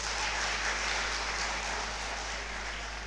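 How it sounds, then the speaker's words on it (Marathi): An audience at a school science exhibition claps steadily, a dense, even wash of applause that fades slightly toward the end, with a low hum underneath. "त्यांच्यासाठी एकदा टाळ्या झाल्या पाहिजे"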